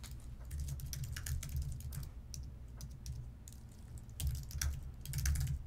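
Rapid clicking keystrokes on a computer keyboard while entering a terminal command, coming in close, busy bursts with brief pauses between them and no voices.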